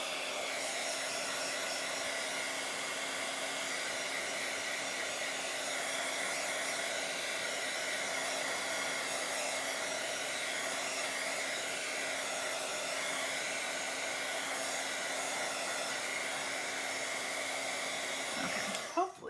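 A hair dryer drying paint on a Bible journal page blows with a steady, loud, unbroken whir for nearly twenty seconds, then clicks off at the end.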